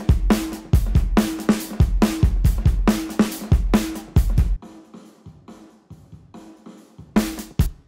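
Mixed drum kit in a shoegaze track with a live-room reverb blended in, playing a steady loud pattern of hits that drops out midway to a sparse, quieter passage before the full kit crashes back in near the end.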